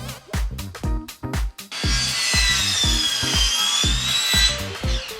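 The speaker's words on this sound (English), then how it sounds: "I cut the planks around the window just like the vent in the outlet." A saw cuts faux wood planks in short, loud, rhythmic back-and-forth strokes, then settles into a longer continuous rasping cut with a whining edge, all close up with no talking.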